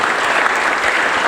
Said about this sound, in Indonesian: sekarang kita beri tepuk tangan yang sangat meriah di detik-detik terakhir